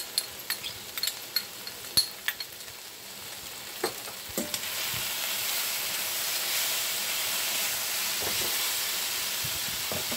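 Onions, peppers and garlic fry in a pan, with a few light clicks and stirs early on before a steady, fairly loud sizzle and hiss fills the rest, with no talking.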